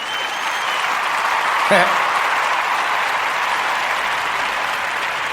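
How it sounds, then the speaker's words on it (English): Crowd applause at a live podcast event: a steady, dense wash of clapping that continues throughout, with a brief louder shout partway through. "Hey, clap it up."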